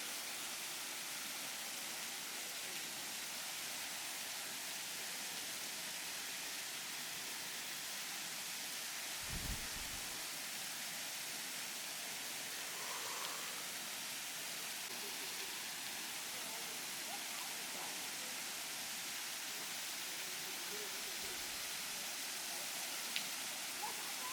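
Sitampeta waterfall rushing as a steady, broad wash of falling water heard from a distance, continuous and even throughout, with a couple of faint low bumps nearby.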